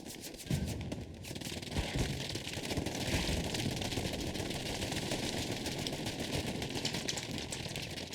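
Continuous rattling gunfire and blast noise from a Hell Let Loose night match, dense and steady with dull thumps from high-explosive shell impacts mixed into the constant battle din.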